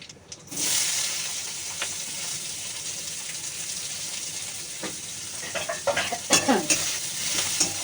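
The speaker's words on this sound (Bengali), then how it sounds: "পেঁয়াজটা ভালো করে ভাজবো" Onion frying in hot oil with dried chilli and black cumin, producing a steady loud sizzle with occasional spoon stirs and clinks toward the end, close up with no talk.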